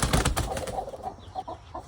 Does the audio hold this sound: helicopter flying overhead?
no